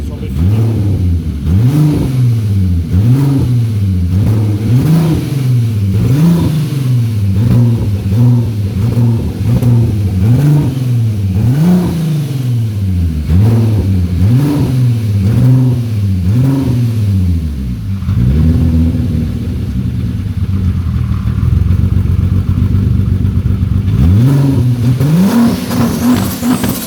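A turbocharged VR6 engine in a Toyota MR2 revs repeatedly in quick rising bursts, then settles into a rougher sustained drone before revving again; loud and close.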